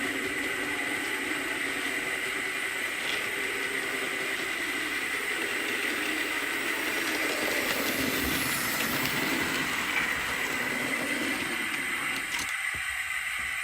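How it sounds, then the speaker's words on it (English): The safety valves of a live-steam model locomotive on a garden railway blow off in a loud, steady hiss that fills the whole stretch, with no talking. "But as you can hear, the safety valves have gone off now."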